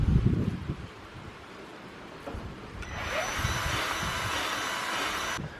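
Strong wind blows outdoors, roaring as a broad gusty rush that thickens into a steady hiss in the second half, with a few low thumps of buffeting at the start.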